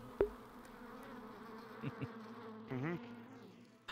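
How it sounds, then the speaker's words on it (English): Bees buzz in the VRChat video game, a steady droning hum close by with a few louder swells and flutters over its few seconds. "Oh no, the bees!"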